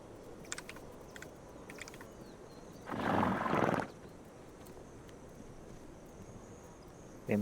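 A horse in the game This Land Is My Land lets out a single loud, rough neigh lasting about a second, set against a faint bed of chirping insects.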